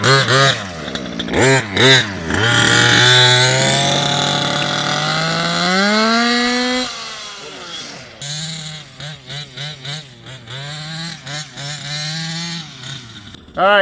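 The small gas engine of a Kraken Vekta.5 RC car runs nearby while warming up, revving in rising and falling pulses and holding a steady buzzing idle between quick throttle blips.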